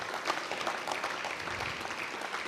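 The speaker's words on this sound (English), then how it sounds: "That's worth a round of applause." Members at a whaling museum's annual meeting clap together in a dense, continuous burst of applause at moderate volume, without a clear break, for a couple of seconds.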